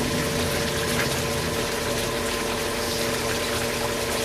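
Water rushes continuously through a gold sluice box, a steady, close, even wash with a faint mechanical pump hum beneath and no talk.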